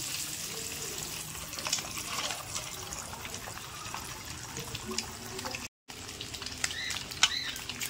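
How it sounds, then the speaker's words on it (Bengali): Double-yolk eggs fry in a pan for an egg curry, giving a continuous soft crackling sizzle with faint wet pops and spatters, steady throughout at moderate level, with a very brief dropout near the end. "এবার একটু লাল লাল করে এগুলো একটু ভেজে নেব।"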